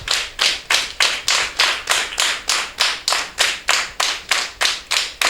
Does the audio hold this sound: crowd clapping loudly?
yes